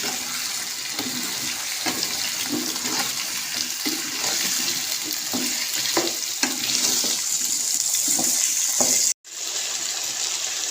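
Potato pieces frying in a pan for a potato and gram flour masala dish, a continuous watery hiss of oil with soft stirring knocks, cutting out abruptly for a moment near the end before resuming.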